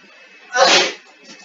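A single short sneeze bursts out close and loud, isolated against a quiet background.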